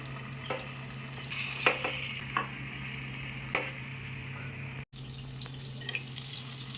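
Stuffed bitter gourds frying in hot oil, a steady close sizzle with a few louder pops and crackles throughout.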